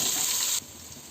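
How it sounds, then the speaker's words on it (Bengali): Potatoes and whole bay leaves frying in hot oil, with onion and garlic already fried in the pan: a steady, close hiss of sizzling that drops abruptly to a softer crackle partway through. "এখন হচ্ছে আমি এখানে আলু আর আস্ত তেজপাতা দিয়ে দেবো, দিয়ে আলুকে ভালো মতো ফ্রাই করে নেব।"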